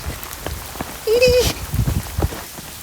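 Steady rain pattering on a surface, with a brief high whistling tone rising above the downpour midway through.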